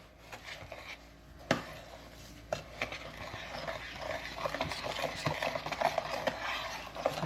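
A spoon works through a thick guava jam mixture with lime juice in a pot, making irregular close scrapes and soft knocks with a few sharper taps against the side, and no one speaking.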